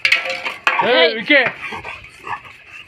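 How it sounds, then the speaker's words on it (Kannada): A dog inside a large house makes a short yelping, whining vocal burst, near and fairly loud, with people talking around it. "ಇದು ನೋಡಿ ಹೆಂಗಾಡ್ತೈತೆ ನಾಯಿ"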